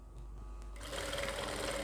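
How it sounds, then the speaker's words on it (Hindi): An electric sewing machine runs a side seam on a palazzo skirt, its motor whirring steadily and close up, picking up speed partway through and then holding a continuous hum. "अब हमें एक सिलाई लगानी है ये साइड से"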